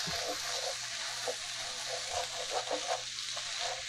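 Rice frying in a pan gives a steady soft sizzle with faint scraping and stirring clicks throughout, close and fairly quiet, with no talking.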